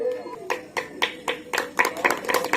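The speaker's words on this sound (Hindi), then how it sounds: "तालियां" Sparse, uneven hand claps from a small gathering at an award ceremony by a riverside aarti site, as a shield is presented to a girl, with faint voices underneath.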